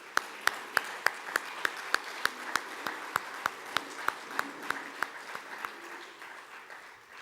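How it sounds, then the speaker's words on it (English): Applause at the Saskatchewan Roughrider Football Club annual general meeting for the new board, individual claps standing out distinctly in an even rhythm over a softer clapping bed, fairly quiet and fading gradually. "a round of applause for the new board"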